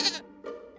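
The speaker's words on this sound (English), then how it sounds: "sheep" One sheep gives a short bleat, with a second, lower bleat following after a brief pause, close and alone without any speech.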